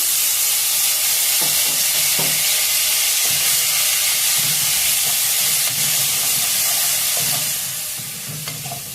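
Ground garlic and chilli paste sizzles and spits in hot oil with nigella seeds, a steady loud frying hiss broken by repeated stirring scrapes across the pan.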